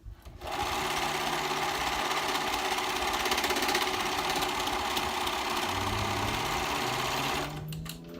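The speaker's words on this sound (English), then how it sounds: "My serger chose to skip that stitch right there." A serger sewing machine stitches dress fabric, its steady, rapid motor hum running loud and close for about seven seconds before winding down.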